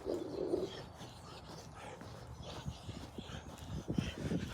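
A dog barks and yelps in short bursts outdoors, fairly close, with rustling and clopping noises around it.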